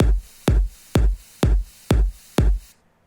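Six punchy electronic kick drum hits land at a steady, even pace, each a deep thump with a short decay, alone and up close.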